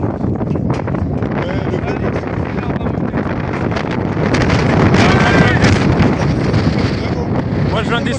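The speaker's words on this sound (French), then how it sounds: "il y a vraiment des rafales de ouf" Strong wind gusts in Iceland buffet the microphone with a loud, constant roar that swells further midway through, close and overwhelming.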